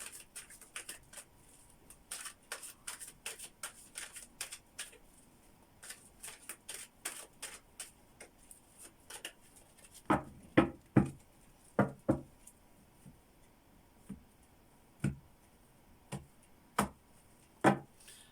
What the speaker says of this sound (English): Just some shuffling first.